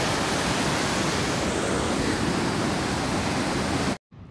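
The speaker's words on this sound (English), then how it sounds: "Now I'm passing over the river." River water flowing beneath a bridge in forest near the Nepal border, a loud, steady broadband rush that holds constant and then drops away abruptly at the end.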